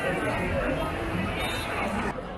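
A busy market in Ghana, with dense crowd bustle and overlapping chatter filling the space, steady and fairly loud throughout without a break.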